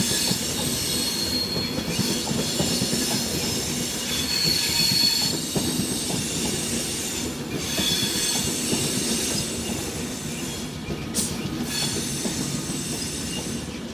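An electric passenger train for Liverpool Lime Street rolls into platform 6 at London Euston with a continuous rumble, wheels squealing and clattering over the rails as it slows along the platform.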